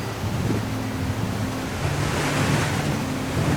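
Water spraying at Shila waterfalls near Padum, a steady loud rushing wash with gusty wind buffeting the microphone, close and continuous throughout.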